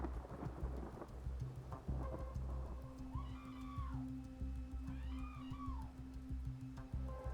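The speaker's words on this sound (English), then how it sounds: "The rain is so heavy outside." Heavy rain pours down during a thunderstorm with a steady, loud hiss and low rumbling, overlaid by a few rising and falling tonal sweeps.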